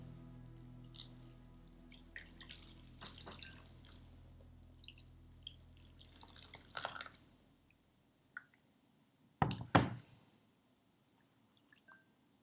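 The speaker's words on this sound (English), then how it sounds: "So you can begin to pour the water over your washcloth." Warm water poured over a washcloth: faint, quiet trickling and dripping for several seconds, then a brief louder splashing pour near the end, with no talking.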